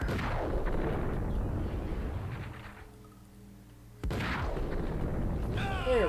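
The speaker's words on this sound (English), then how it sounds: "Ow, stop shooting me." Gunfire and explosive booms from the video game Max Payne burst loudly at the start and again after a quieter gap, with game sounds mixed in and some talk in the background.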